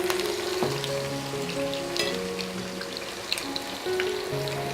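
Garlic paste sizzling in a frying pan, a steady close crackle and hiss of frying with sporadic pops, accompanied by sustained tonal hum or music in the background.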